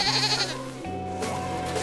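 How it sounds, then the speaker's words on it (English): Cartoon goat bleating on an icy hiking trail, a loud wavering bleat followed by a second drawn-out cry over a light musical background. "Little goat, stop,"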